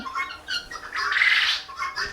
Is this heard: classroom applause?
no